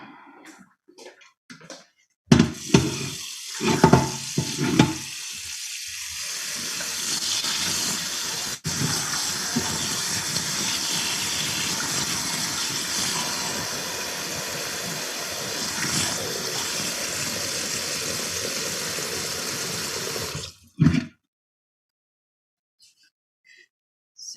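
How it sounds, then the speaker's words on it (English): Water gushes steadily from a tap into a cooking pot for about eighteen seconds, loud and continuous, with a few clunks of the pot being handled before and after. "And then I take another pot, put these in, and add some water."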